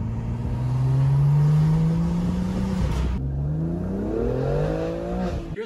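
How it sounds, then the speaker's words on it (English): A BMW M2 with an upgraded intake revs hard, its loud, close engine and intake roar climbing and falling in pitch over several seconds, with a brief drop before building again. "you get a lot more intake noise out of mine"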